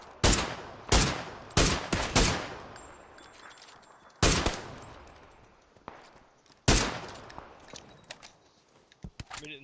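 Gunfire in the PUBG: Battlegrounds video game, sharp loud shots in ones and quick pairs with echoing decays and pauses between them, some nearer and some more distant.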